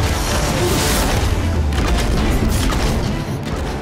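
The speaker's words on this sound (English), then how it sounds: "It launches explosive chemical bombs that can bounce off terrain for impressive area of effect damage" In the Nosgoth video game, an Alchemist hand cannon fires explosive chemical bombs that bounce off terrain, producing dense, booming blasts and crashing bursts that run together loudly for a few seconds without any voices.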